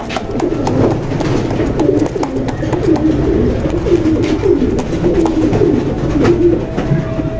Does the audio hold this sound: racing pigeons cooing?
yes